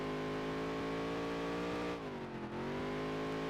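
A race car engine in Dirt to Daytona holds a high steady drone in 4th gear, a loud continuous harmonic whine that dips briefly mid-corner before climbing again, heard alone.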